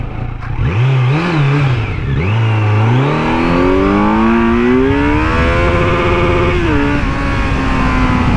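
A Kawasaki Z900 motorcycle accelerates hard in first gear. The engine note is loud and close, with a whining pitch that climbs steadily for several seconds before dropping away.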